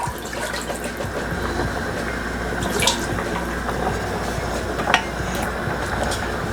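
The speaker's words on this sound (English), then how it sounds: "I'm gonna go ahead and go in with a little bit more clam juice for a little bit more liquid." Clam juice pours into a pot on a stovetop for a clambake, a steady, close liquid splashing and trickling that runs unbroken for several seconds, with no talk.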